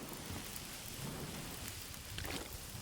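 Dense, continuous downpour with rolling thunder during a storm in the survival video game The Long Dark, heard steadily and alone at moderate level with a slight surge near the end.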